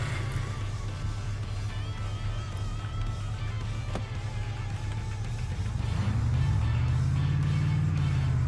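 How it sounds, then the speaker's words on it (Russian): Low, quiet idle of an AZOV 4220 truck engine in a video game, a steady rumble that swells and rises in pitch toward the end as it revs, with no talk over it. "Кстати, очень такой тихий звук двигателя."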